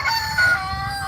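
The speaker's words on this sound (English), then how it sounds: "Damn chickens." A backyard rooster crows once, fairly near and clear, against light outdoor ambience in a garden setting.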